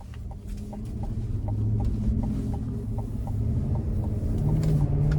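2025 Chevrolet Tahoe Z71 with a 5.3 V8 pulling away on a test drive, low steady engine rumble from inside the cabin, rising slightly as it gets under way, with faint ticking clicks.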